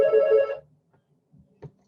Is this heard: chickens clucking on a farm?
no